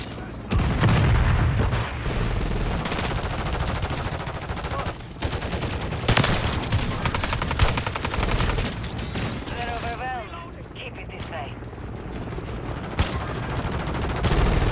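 Shotgun and other gunfire in a Call of Duty: Modern Warfare Kill Confirmed multiplayer match, dense rapid bursts and heavy booms layered over constant loud battle noise, with a brief quieter gap near the end.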